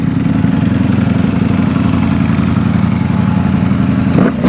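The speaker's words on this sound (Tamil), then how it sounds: "V4 சவுண்டு கேளுங்க." A V4 motorcycle engine running close by, a loud, steady, throbbing idle with a deep, even pulse, cutting off abruptly at the end.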